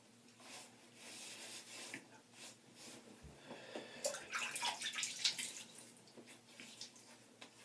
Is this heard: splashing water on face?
yes